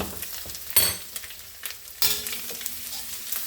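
Onion drops into hot oil in a pan, setting off two sharp bursts of sizzling that settle into a lighter, continuous frying crackle.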